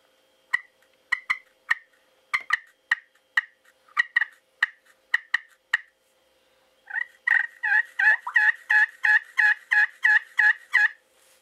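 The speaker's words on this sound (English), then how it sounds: "when you're playing with your turkey calls" A DB Custom Calls turkey call gives a series of sharp, spaced clucks, then a fast rhythmic run of yelps, close and clear with no voices.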